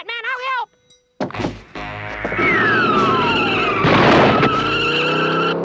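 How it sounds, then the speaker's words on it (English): A cartoon car skids and spins out on a slippery substance, tires squealing in a long rising and falling screech with a thunk partway through, loud and close. A short voice is heard just before. "Whatever that stuff is, the car is spinning out on it."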